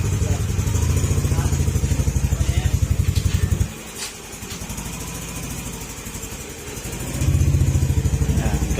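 A Yamaha NMAX 155 scooter engine runs close by with a steady, throbbing idle, drops to a quieter tick for a few seconds, then picks back up. A voice is faintly heard over it.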